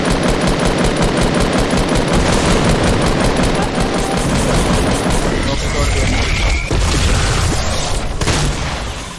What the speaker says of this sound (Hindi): ये भी ग्रेनेड से तोड़ देता हूँ